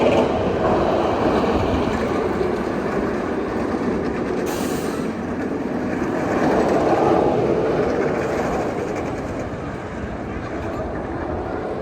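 The Jersey Devil roller coaster train runs at night at Six Flags Great Adventure's holiday event, half full and a little slow. Its continuous roaring rumble and rattling track noise go on throughout, with voices talking over it.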